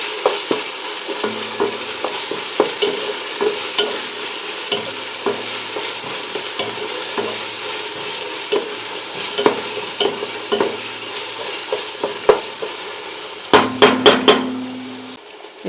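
Homemade ginger garlic paste fries in a pan for a jackfruit biryani, a steady loud sizzle with scattered scraping stirs and a burst of clanking utensil knocks near the end.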